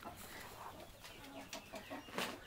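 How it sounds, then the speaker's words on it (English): Chickens cluck in a poultry barn on a spring homestead, a steady layer of overlapping clucks and soft calls with a sharper squawk near the end, fairly close. "there's some chickens"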